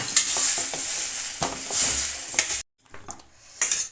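Sliced ridge gourd fries in oil in a pan, a bright sizzle stirred with a utensil in several close scraping bursts, a brief silent gap, then the sizzle returns.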